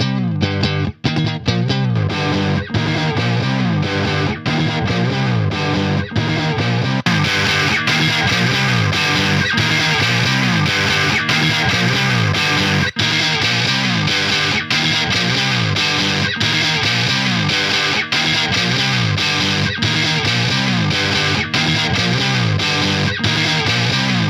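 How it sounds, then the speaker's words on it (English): A clean-toned electric guitar loop through a Fender Deluxe Reverb amp, with the pedal off, plays loud and continuous, repeating chords and notes steadily with no talking over it. "and then clean tone of the Fender Deluxe"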